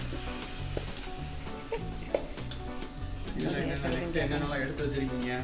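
Mustard seeds and urad dal hit hot oil and set off a loud, steady sizzle with scattered pops and crackles, close up, while a person talks over it.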